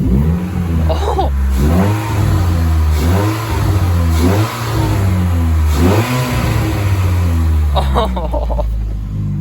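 A 2010-12 Ford Fusion 2.5 with a cold air intake revs repeatedly, the engine note rising and falling in several loud, close pulls over a steady rumble.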